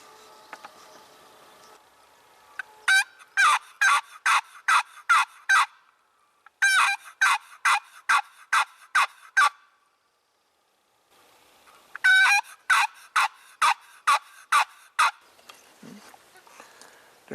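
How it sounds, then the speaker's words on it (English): A wild turkey hen yelps in spring woods, sounding clear and fairly close in three runs of about seven evenly spaced, rhythmic yelps each, with short pauses between the runs. "I can hear a hen yelping out there"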